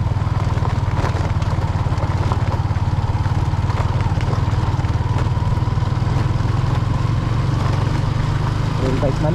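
A motorcycle ridden along a rural road near Sitio Mapita, Aguilar, Pangasinan, its engine drones loud and close with a steady throbbing pulse, wind buffeting over it, and a voice talks faintly beneath.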